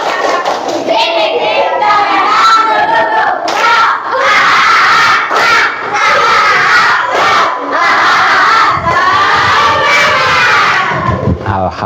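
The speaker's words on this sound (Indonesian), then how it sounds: "tepuk semangat." Schoolchildren in an Indonesian classroom perform a tepuk semangat clapping chant, loud unison shouted words punctuated by bursts of rhythmic hand claps, the group chanting together close by for the whole stretch.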